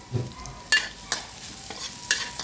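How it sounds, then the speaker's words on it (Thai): Pork and chili being stir-fried in a pan, a quiet sizzle with a handful of sharp metallic scrapes and knocks of the utensil at irregular moments, close by and without talking. "ผัดพริกยวกใส่หมูนะครับผม"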